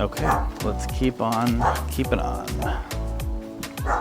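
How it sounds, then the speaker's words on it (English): Several dogs bark and yip in the background while a person talks over them, the barking coming in repeated bursts. "barking fur babies behind me"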